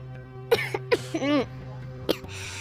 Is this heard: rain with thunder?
no